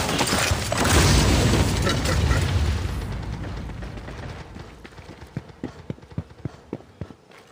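A flashbang grenade goes off in the shooter game Critical Strike, a loud broad burst with a long ringing wash that fades over several seconds, followed by a run of sharp mechanical clicks.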